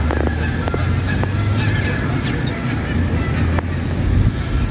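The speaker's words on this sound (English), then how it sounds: "You got a lot more ducks or geese or something out there." Geese honk in scattered calls over a steady low rumble of wind and background noise outdoors at Mammoth Spring.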